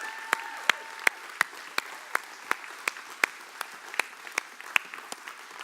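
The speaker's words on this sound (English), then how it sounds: "give them a huge round of applause" An audience claps for a launch team at a five-year celebration event. The clapping is sparse and regular, with sharp distinct claps in a steady rhythm under a faint tone early on.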